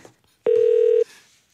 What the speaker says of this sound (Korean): 전화 한번 해 보겠네요